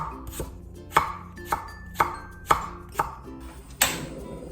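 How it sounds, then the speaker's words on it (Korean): A knife slices a peeled carrot on a cutting board, six crisp evenly spaced chops close up, each with a sharp wooden knock, no voices. "껍질 벗긴 당근을 위아래 썰어주세요. 반을 나눠서 어슷 썰어주세요."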